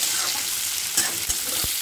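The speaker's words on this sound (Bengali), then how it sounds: "পেঁয়াজটা খুব ভালো করে ভেজে নিচ্ছি" Onions sizzle and fry in a pan for a biryani with prawns and egg, a close, steady crackling hiss with a few soft stirring knocks and scrapes and no talk.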